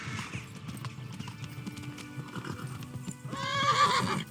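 A horse in the video game Kingdom Come: Deliverance gallops with quick rhythmic hoofbeats, then neighs loudly near the end, close and clear over faint background game sound.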